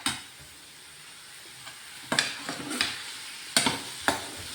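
Ooty potatoes frying in a pan, a soft steady sizzle broken by a few sharp scraping stirs of a spatula, close and clear with no talk.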